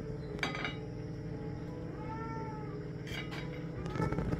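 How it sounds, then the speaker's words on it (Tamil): A cat waiting for food in a kitchen at breakfast time in Auroville gives a drawn-out meow midway, while dishes and cutlery clink nearby against faint background noise. "இந்த பூனை என்னன்னா சாப்பிட்றதுக்காக அப்படியே வந்து வெயிட் பண்ணிட்டு இருக்கு"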